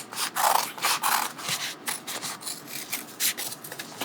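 Foam on a strap is trimmed close up in short rhythmic rasping strokes, each a soft scraping cut repeating about every half second, alone with no talk.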